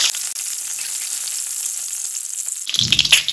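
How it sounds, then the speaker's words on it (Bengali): Boiled eggs fry in hot oil in a wok, a steady loud sizzle close up that turns into sharper crackling and spattering near the end, with no talk. "কড়াইয়ের যে তেলটা আছে সেই তেলেই আমি ডিমটা দিয়ে দিলাম।"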